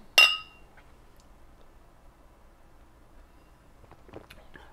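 Beer glasses clink once in a quick, bright toast near the start, followed by near quiet with faint shuffling and a brief murmur at the end.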